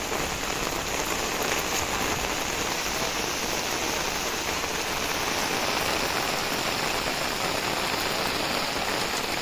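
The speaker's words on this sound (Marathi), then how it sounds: "पाऊस काही थांबतच नाही" Steady, dense monsoon rain pattering on a hard surface during paddy transplanting in Konkan, continuous and fairly loud throughout with no voices.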